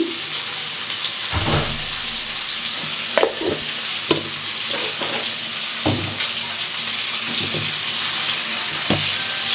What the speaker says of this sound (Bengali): ফুলকপি ভাজতেছি